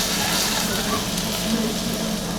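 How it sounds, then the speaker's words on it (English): Hot oil poured over spring onion and ginger gives a steady, close hiss of sizzling that holds evenly for the whole moment, with only faint background. "Sizzle, there we go."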